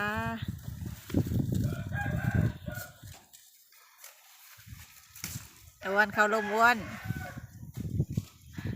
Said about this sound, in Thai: ไก่ขันกลางวัน ไก่ขันทั้งวันนะคะ